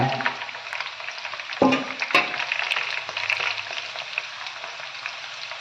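Steady crackling sizzle of leaves frying in hot oil, with a louder burst of spattering partway through, close and continuous with no talking.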